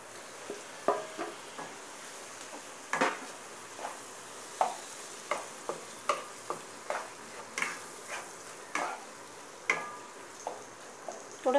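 Prawns cooking in masala in a pan on a low flame, with steady soft sizzling and a series of sharp scraping clicks from stirring, each fairly close and distinct.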